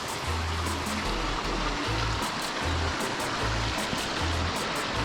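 Hot spring runoff pouring from a pipe and flowing into a cold mountain river near Sela Pass, a steady close rushing wash of water with a low rhythmic thumping underneath.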